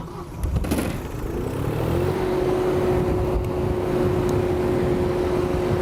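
An engine on a Frontier 400X pipe welding unit cranks briefly, catches and settles into a steady, close idle with a rising tone that levels off into a constant hum.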